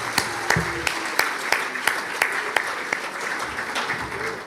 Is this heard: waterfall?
no